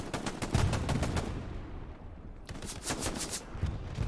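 Grenades and gunfire in Hell Let Loose, rapid bursts of distant machine-gun fire rattling in clusters, briefly pausing midway before resuming, fairly faint and with no talk.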